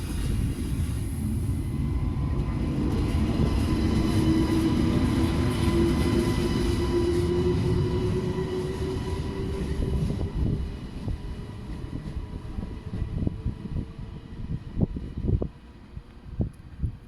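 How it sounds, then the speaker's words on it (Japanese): A train rumbles past a station platform in France, loud and close with a sustained roar that slowly fades, followed by rattling wheel clatter and scattered clanks as it moves away. "いいね、電車。 電車。"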